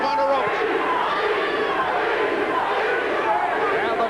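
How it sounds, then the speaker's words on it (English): Boxing arena crowd during a bout between John Mugabi and Frank Fletcher, a loud continuous roar of massed voices and chanting filling the whole stretch without a break, swelling around a heavy exchange of punches. "the chant of peace from the crowd as Mugabi landed the big right hand"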